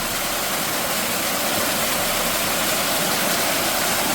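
A swollen mountain stream beside a rural house rushes after heavy rain, a steady broadband roar of flowing water filling the scene without pause or voices.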